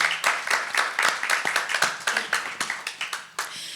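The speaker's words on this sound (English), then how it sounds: "So please join us in a round of applause for thanking the filmmakers for sharing their work." An audience at a documentary film festival screening applauds with steady, fairly close clapping that holds at an even level before starting to fade.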